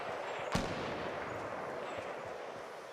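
A single sharp gunshot cracks out from Fortnite gameplay, crisp and fairly close, followed by a long stretch of steady background rumble with faint distant pops.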